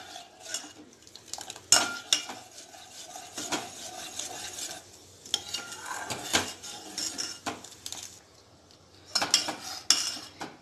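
Custard stirred into milk in a metal pot for kulfi, with a spoon scraping and clinking against the sides in irregular bursts, some sharp clanks standing out, close and clear without speech.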